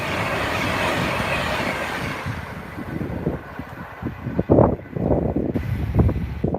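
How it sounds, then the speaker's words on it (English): A Pendolino train rushes past, a loud broad roar that eases into rhythmic clickety-clack of wheels over rail joints with gusts of wind noise. "Here comes a Pendolino."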